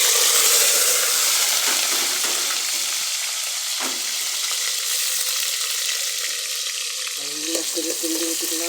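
Green chilies and onions sizzle loudly in hot oil for a fish curry, a steady dense frying hiss with occasional stirring scrapes and no voices.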